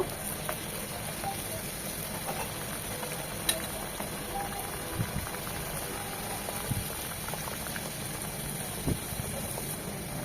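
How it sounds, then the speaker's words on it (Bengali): Spicy pitha deep-fry in hot oil, producing a dense, continuous bubbling and frothing that stays close and even throughout, with faint clicks now and then. "এভাবে সবগুলো পিঠা ভেজে নেব"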